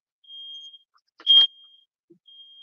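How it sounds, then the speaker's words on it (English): An alarm emits steady high-pitched electronic tones, with a louder burst in the middle and fainter sustained beeps before and after, heard alone with no talk. "Yeah, alarm. Not do that."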